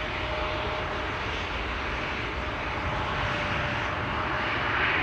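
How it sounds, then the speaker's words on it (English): A KLM Boeing 787 Dreamliner airliner bound for Mumbai approaches at Schiphol Airport, a steady, broad engine roar holding evenly throughout, moderately distant with no voices. "This is KLM Flight 877 to Mumbai, also coming this way."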